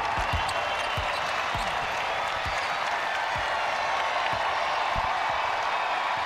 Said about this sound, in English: UConn can dribble it out.